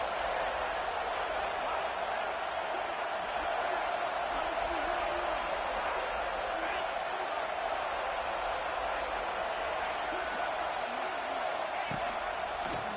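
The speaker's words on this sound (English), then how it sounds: "how nice is it to have the home crowd going absolutely bananas?" A home stadium crowd roars in the video game EA College Football 26, a dense, continuous wash of cheering and noise that holds steady throughout, with voices blended in.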